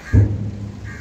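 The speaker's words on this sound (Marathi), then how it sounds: "गडगडतंय" Thunder rumbling during a sudden rainstorm in Mumbai, a single low, loud rumble that swells quickly and then fades into a steady background roar.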